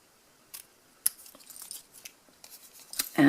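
Scissors snipping down a pattern, a handful of sharp, close cuts with small metallic clicks spaced irregularly, ending in a louder rustle.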